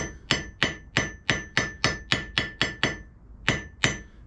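A hammer strikes an anvil quieted by neodymium magnets with a buffer layer, about a dozen sharp, evenly spaced blows with a short ring after each, close and loud, alone with a brief pause near the end.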